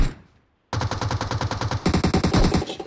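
Rapid automatic gunfire in PUBG Mobile, a dense string of close, loud shots after a short pause, growing heavier partway through.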